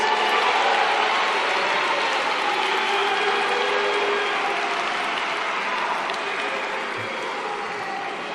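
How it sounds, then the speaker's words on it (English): A large parliamentary audience at the 2025 State of the Nation Address claps in a dense, sustained roar of applause that fills the hall without pause, easing slightly toward the end, with no voices rising above it. "let us give them a big round of applause"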